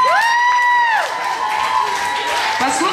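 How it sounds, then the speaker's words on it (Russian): Audience at a children's Mister and Miss stage show cheering and applauding, opening with a loud sustained whoop over a crowd of clapping and shouting that continues steadily. "Аплодисменты."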